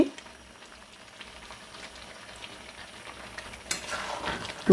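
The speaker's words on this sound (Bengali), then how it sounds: "ভালো করে নাড়িয়ে সাথে সাথে ঢাকা লাগাতে হবে" Spices being stirred in ghee in a cooking pot for a meatless "meat" dish, giving a soft steady sizzle and scraping with a louder burst of frying near the end, no voices.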